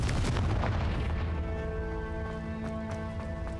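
A Confringo blast spell in Hogwarts Legacy erupts as a loud, booming explosion that fades into a sustained ringing tonal hum.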